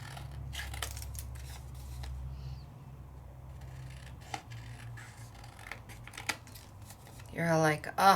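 Scissors trim around a paper stamped image, giving a few quiet snips and paper rustles near the end, faint under soft room noise with occasional handling sounds.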